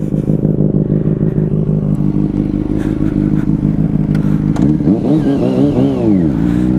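A Yamaha Fazer 600 (FZ6) motorcycle fitted with a WR sport exhaust idles loudly and steadily close by, then revs up in several rising and falling sweeps near the end, with no voices.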